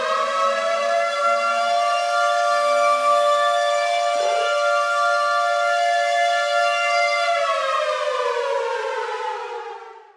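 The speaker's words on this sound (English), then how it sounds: "The air raid siren is off." An air raid siren sounds a long, steady, loud wail that holds its pitch, then fades and drops away at the end, with no voices over it.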